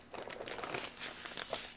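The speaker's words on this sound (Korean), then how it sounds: "기본적인 포장을 하거나 보관할 때는 바로 요 비닐 안에" A plastic bag crinkles softly and irregularly up close as a calibration sensor (the EIZO EX4) is packed into it for storage.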